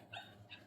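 A dog gives two quick faint yips in a quiet indoor room, short high barks spaced a moment apart over a low background hum.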